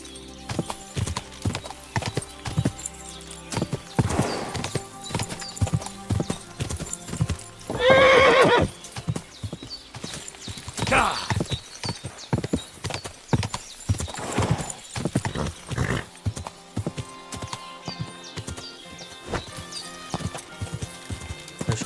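A horse gallops in the medieval video game Kingdom Come Deliverance 2, its hooves drumming in quick irregular clip-clops, with a brief loud whinny partway through, all fairly close and with no talk over it.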